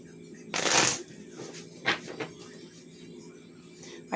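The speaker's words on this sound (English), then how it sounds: "We'll give this another shuffle" Tarot cards being shuffled: a loud, close riffling burst followed by a few shorter card flicks and softer handling sounds.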